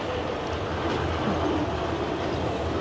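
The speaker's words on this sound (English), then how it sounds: "We've got the heritage tram just coming in front of us here" A Blackpool heritage tram rumbles past close by, a continuous rolling roar of wheels on rails with a faint high squeal.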